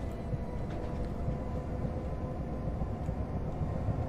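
A train runs steadily in the Transport Fever 2 simulation game, giving a continuous low rumbling drone with no breaks and no voices over it.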